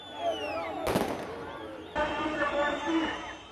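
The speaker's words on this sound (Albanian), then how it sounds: "Grupe mbështetësish të opozitës të maskuar hodhën në drejtim të kryeministrisë dhe forcave të policisë, bomba molotov dhe fishek zjarre" Fireworks burst at a night opposition protest outside a government building where masked demonstrators throw molotov cocktails and firecrackers toward police, sharp bangs over a rumbling crowd and shouting voices.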